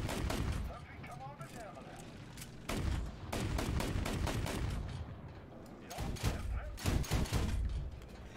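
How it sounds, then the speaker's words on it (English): Pistol shots ring out in a video game as a series of sharp, loud cracks in irregular clusters, with a voice talking between them. "this sounds like a gun to me, like a pistol"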